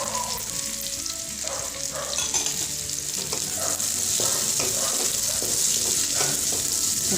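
Green chilies and small anchovies stir-fried together in a pan, a close, steady sizzle with frequent scraping of the spatula, a faint watery hiss underneath, and no talking.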